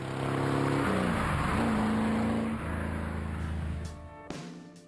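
Bizzarrini GT 5300 sports car being driven, its engine droning loudly and steadily with a shift in pitch midway, then easing off toward the end.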